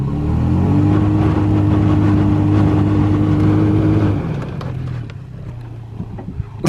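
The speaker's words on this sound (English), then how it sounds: "the wheels are just spinning now" A Toyota Tacoma off-road with its wheels spinning in loose sand: a loud, steady engine drone at high revs for about four seconds, then easing to a lower, rougher idle with some wind noise.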